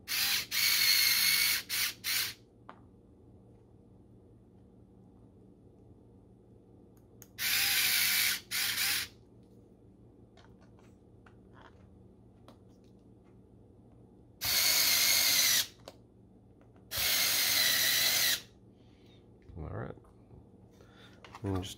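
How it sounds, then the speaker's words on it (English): A power drill drives screws to fasten the axle on a 3D-printed RC trailer, in several short, loud whirring bursts separated by quiet pauses. "Take two screws and screw down the"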